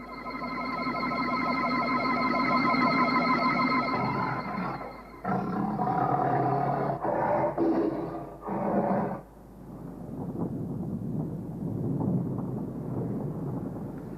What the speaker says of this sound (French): Continuez à rugir. Nous pourrons vous suivre à l'oreille.